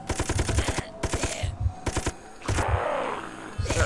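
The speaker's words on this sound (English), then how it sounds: "Machine gun." Bursts of rapid machine gun fire from the shooter video game Dead Sky, loud and close, coming in several short rhythmic volleys separated by brief pauses, with a deeper boom near the end.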